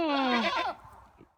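A show goat on a farm bleats once, loud and near, with a wavering drawn-out cry that fades into quieter background sounds.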